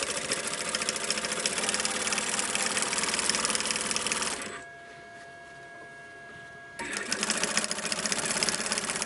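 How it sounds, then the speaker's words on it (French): A sewing machine runs close and loud as it stitches a seam on a quilted, lined crossbody backpack, with a steady mechanical whir that halts for about two seconds and then starts up again. "Vous venez coudre comme ceci. Avec une marge de couture."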